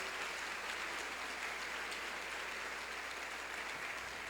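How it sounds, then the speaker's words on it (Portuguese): A church congregation applauds during worship, a steady and even wash of many hands clapping that sounds faint and distant, with almost no voices over it. "pode aplaudir Jesus"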